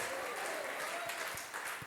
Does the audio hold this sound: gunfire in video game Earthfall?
no